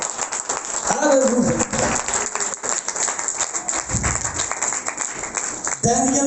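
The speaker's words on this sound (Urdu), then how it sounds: "زوردار یسوع کے لیے تالیاں دیں" A church congregation claps vigorously for Jesus in a fast, rattling burst of applause, with voices shouting over it.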